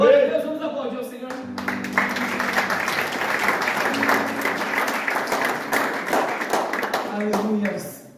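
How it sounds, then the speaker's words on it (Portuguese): A church congregation claps together in a sustained, dense round of applause, close and loud, with a voice speaking briefly at the start and again near the end. "vamos aplaudir ao Senhor"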